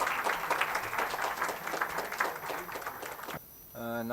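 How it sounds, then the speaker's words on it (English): Applause from a radiology conference audience at the inaugural session of a regional meeting, dense and sustained for over three seconds, then cutting off abruptly before a short tonal sound near the end. "Big round of applause, please."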